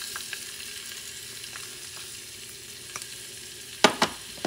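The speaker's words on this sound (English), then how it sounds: "And what I'm going to do, going to add the onions." Onions sizzling in olive oil in a pan over medium-high heat, a steady close frying hiss with a few sharper crackles and pops near the end, no talking.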